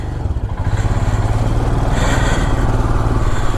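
Motorcycle engine running loud and close with a steady throbbing rumble as a ride begins from a hotel on the hill road from Siliguri toward Gangtok in East Sikkim.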